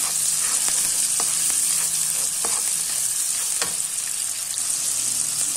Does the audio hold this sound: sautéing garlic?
yes